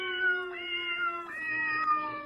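A computer cat app plays a drawn-out, wavering meow through desktop speakers. The sustained, slightly tinny cry rises and falls over a couple of seconds, alone and fairly clear.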